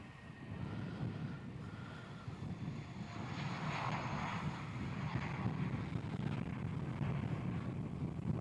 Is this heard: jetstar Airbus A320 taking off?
yes